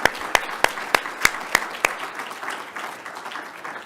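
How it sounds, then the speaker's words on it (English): Scattered, sharp claps from a plenary session audience at the 2024 NJDOT Research Showcase, a handful of distinct loud claps in a loose rhythm thinning into softer patter. "Let's give him another round of applause."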